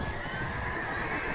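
A horse in Mount and Blade Warband gives a steady, moderately loud whinny over a low rumbling background, with a hint of hooves.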